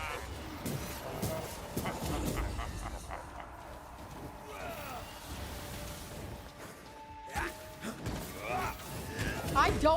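A dog whimpers in the video game Banishers: Ghosts of New Eden, with soft whining cries over busy game effects and shuffling footsteps; louder bursts come near the end.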